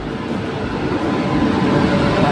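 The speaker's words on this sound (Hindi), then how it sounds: "हमारा फाइनली ट्रेन आ चुका है।" Indian passenger train pulling into a station platform, a steady broadband rumble of rolling wagons that grows slightly louder over a couple of seconds, with no clear talk.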